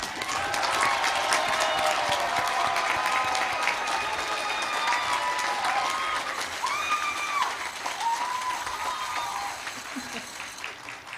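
A large audience applauds graduates at a university commencement ceremony, steady dense clapping with some cheering sustained throughout, gradually easing toward the end, with faint voices mixed in.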